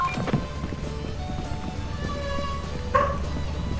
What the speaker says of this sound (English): The dog is barking. I repeat, the dog is barking.